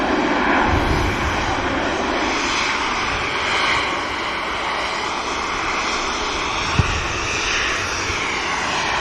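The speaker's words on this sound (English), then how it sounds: "And here's the 2XL just touching down, ladies and gents." A passenger airliner, a 2XL aircraft, touches down at Manchester Airport, its engines making a steady broad roar that holds loud and fairly close throughout with no talk over it.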